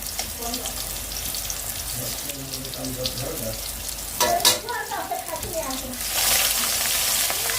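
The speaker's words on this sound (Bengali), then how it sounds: "এই যে আমার পটলের পাটটা কিন্তু ভাজি হয়ে গেছে মাছটা দিয়ে দিচ্ছি" Sliced pointed gourd fries in a pan with a soft, steady sizzle and scraping stirs, then pieces of fish drop in and the hiss flares louder and brighter near the end.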